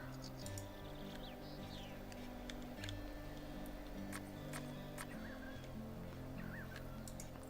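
Birds honk in the farm-management video game Farm Manager 2018. The honks are short and scattered over a steady, busy background hum of game ambience and clicking ticks.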